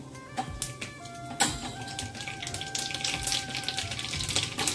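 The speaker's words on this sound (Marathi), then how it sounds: "आता तेल गरम झाले, आपण जिरे टाकूया।" Cumin seeds dropped into hot oil for tempering, a faint crackling sizzle that builds with small pops and a clink, alongside a few tonal kitchen hums.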